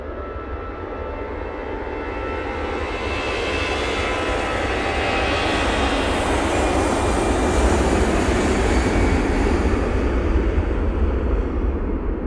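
An easyJet jet takes off from snowy Manchester Airport, a loud, broad engine roar that grows slowly and stays strong and steady for the whole stretch, alone without talk.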